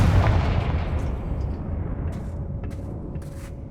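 A Confringo blasting spell explosion in the video game Hogwarts Legacy, a heavy booming burst at the start that decays into a rumbling tail with faint crackles and debris.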